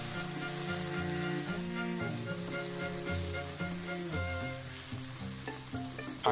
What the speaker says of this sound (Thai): ใส่บรอกโคลี่ตามลงไปได้เลยครับ ผัดต่อครับให้ทุกอย่างสุกพร้อมๆกันเลยครับ